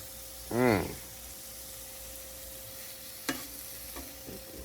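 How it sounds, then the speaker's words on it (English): Bavette steak and onions for fajitas being stirred in a hot pan, with a steady sizzle throughout, a brief vocal hum near the start, and a few light utensil clicks toward the end. "Just give that a quick little stir."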